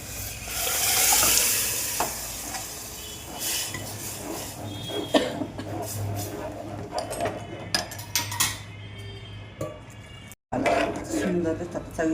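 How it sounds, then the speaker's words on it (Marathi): A hot tempering (phodni) of turmeric and coriander for dal palak sizzles steadily in a pan after a green paste is stirred in, with occasional utensil scrapes and clinks and a voice speaking nearby. "वरणाला फोडणी."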